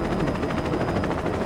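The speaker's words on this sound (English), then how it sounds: "Is that my helicopter? That's my helicopter." Helicopter rotor drone from the video game Saints Row, a steady, dense, continuous whir holding at an even level throughout with no talk over it.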